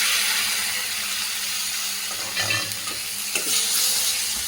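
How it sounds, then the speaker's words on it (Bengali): Chopped tomatoes for aloo dum fry in a pan under a steady, close sizzle, with a few scraping stirs and light taps from a spoon partway through. "একটু কাঁচা গন্ধটা চলে যাওয়া পর্যন্ত নাড়বো"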